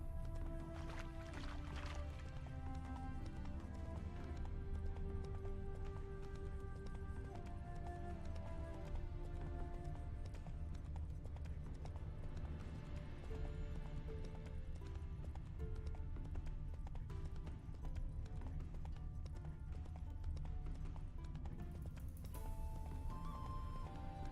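Geralt's horse Roach clip-clops along a forest path in The Witcher 3, steady hoofbeats set under continuous game music and ambience, with no talk.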